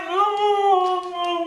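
A dog's long, sustained howl-like vocalisation with a rich, wavering harmonic stack, loud and close, running continuously for about a second and a half with no other voices.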